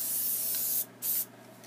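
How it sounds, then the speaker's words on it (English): An aerosol can sprays a coating onto a dryer sheet in a steady hiss, pauses briefly, then sprays again for a short burst, close and clear. "I'm going to give this a good coat of spray"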